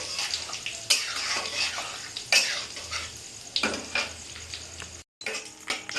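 Whole cumin seeds sizzling and crackling in hot oil in a pan for Bengali-style mutton keema with kabuli chana, a close frying hiss with sharp bursts of splatter and a brief drop to silence near the end.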